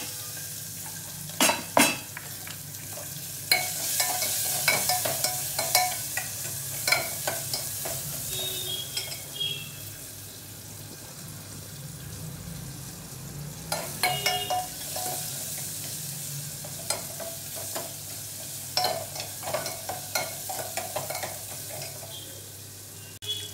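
Sliced sambar onions frying and being stirred in a pan, a steady sizzle running throughout with repeated scraping and clinking strokes of the spoon against the pan, close and moderately loud.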